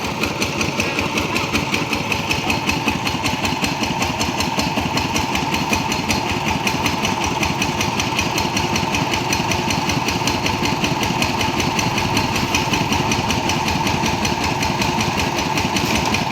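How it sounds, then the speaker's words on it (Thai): A loud turbocharged engine on a fertilizer-hauling truck runs steadily and rhythmically throughout, with a rough, pulsing idle and a high turbo whine layered on top. "เสียงโบดังสะใจเลยวะ"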